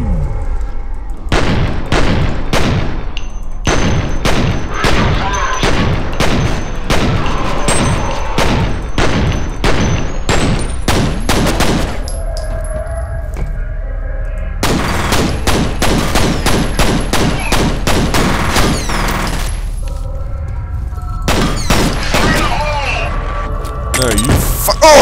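Rapid bursts of gunfire and a grenade explosion from the F.E.A.R. video game, with loud, dense volleys of sharp shots that repeatedly pause and resume.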